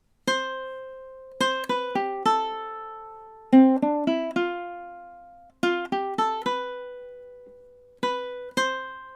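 A solo ukulele riff of plucked notes and strummed chords in short phrases separated by pauses, each attack ringing out and decaying, played alone and close.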